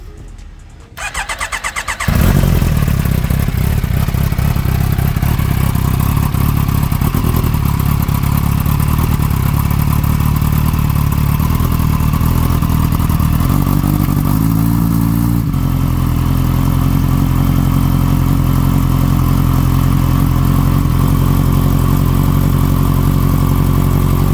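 A Kawasaki Ninja H2 motorcycle with a newly installed exhaust cold starts: a brief crank, then the engine catches and settles into a loud, steady idle that holds close and alone, with a slight shift in tone partway through.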